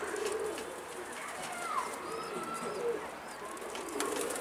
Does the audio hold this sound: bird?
yes